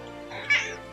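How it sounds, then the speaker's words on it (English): A single short cat meow from Final Fantasy XIV rises clearly near the middle of the clip over a steady, faint game background. "Meow."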